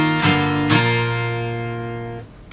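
Electric or acoustic guitar playing the second lick of the intro to a song, two plucked notes followed by a sustained ringing chord that fades, then a new attack at the end, played alone without talk.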